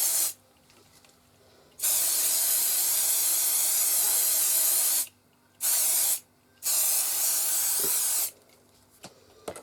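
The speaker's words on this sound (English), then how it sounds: "And I'm just going to spray" An aerosol spray can hisses in several loud bursts, a long spray followed by shorter ones, separated by quiet pauses with faint handling noises.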